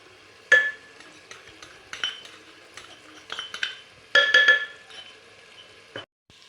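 A spoon stirs brinjal subji with spice powder in a metal pan, producing scattered scraping clinks and knocks in irregular bursts, fairly close and with no talk.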